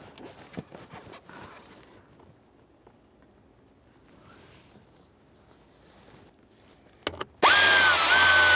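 After several seconds of quiet clinking and handling, a power tool bursts in loud and close, a high whirring drive that continues steadily to the end, driving the mounting bolts of an HVAC blower motor in a 1994-1997 Honda Accord.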